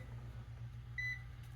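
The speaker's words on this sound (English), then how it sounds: "It's beeping." A multimeter set to the higher AC voltage scale, probes on the black and yellow wires of an HVAC X-13 fan motor, gives one short, clear beep lasting a split second over a steady low hum.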